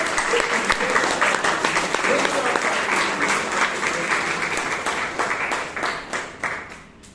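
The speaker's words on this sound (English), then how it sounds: "Please give a round of applause for all that." Audience at a Bangalore Toastmasters club meeting applauding, loud, dense clapping from many hands that holds strong and then gradually thins and fades near the end.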